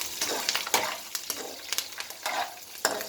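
Curry leaves spit and crackle in hot oil for an atukula (flattened rice) mixture, with sharp sizzling pops that flare unevenly over light stirring, close and alone.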